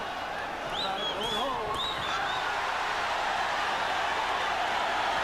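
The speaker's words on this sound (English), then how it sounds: "Crowd picks up again as Chavez continues to step inside." Boxing arena crowd during the Julio Cesar Chavez vs Roger Mayweather fight, a steady broad roar that holds loud throughout, with a few whistles and shouts rising near the start.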